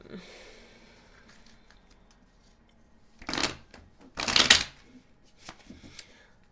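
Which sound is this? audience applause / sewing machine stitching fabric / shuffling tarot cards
shuffling tarot cards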